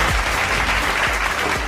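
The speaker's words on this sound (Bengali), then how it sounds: "জোরে হাততালি একবার" An audience at a televised Bengali music show claps after a song, a continuous, loud burst of applause with crisp individual claps, holding steady for the whole moment.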